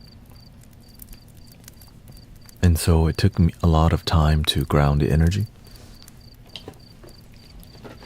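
Crickets chirp at night in a faint, steady, evenly pulsed trill that runs through the whole stretch, while someone speaks over the middle section.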